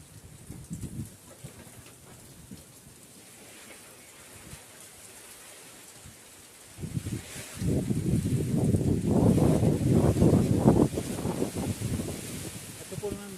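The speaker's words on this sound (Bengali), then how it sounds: "প্রচুর পরিমাণ বৃষ্টি হচ্ছে, সাথে ঝড়ো বাতাসের সাথে প্রচুর বৃষ্টি" Heavy rain driven by stormy Cyclone Remal wind hisses as a dense wash, quieter at first, then surging louder for several seconds before easing slightly, with an indistinct voice underneath.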